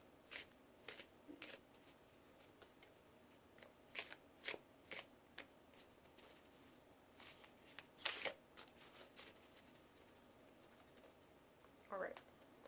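Tarot cards shuffled by hand in a series of crisp riffling bursts, some sharp and close, separated by short pauses, with faint room noise between them.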